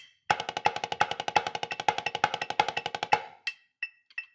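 A snare drum plays a fast, even paradiddle pattern, two single paradiddles and a paradiddle-diddle, with regular accents, close and crisp, ending with a few scattered taps.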